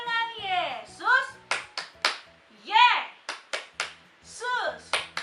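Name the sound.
hand clapping during a Sunday school song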